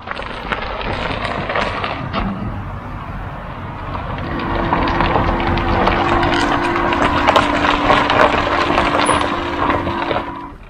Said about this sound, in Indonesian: Suaranya kalau dari luar kayak transformer guys.